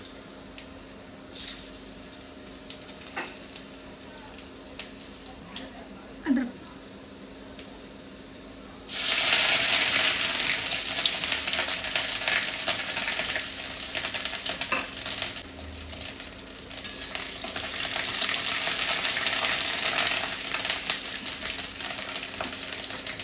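Garlic and ginger go into hot oil for soya momos, starting with quiet stirring and faint clinks before a loud burst of sizzling frying that carries on steadily to the end.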